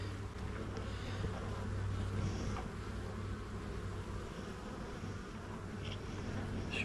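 Honey bees swarm and buzz around an opened hive, a dense, steady drone with no pauses, close by and moderately loud, with occasional louder passes of single bees.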